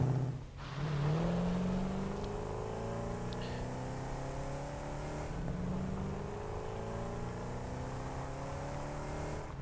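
A vehicle in the Satisfactory video game drives with a steady engine drone that rises in pitch as it accelerates and shifts through gears, close and continuous throughout.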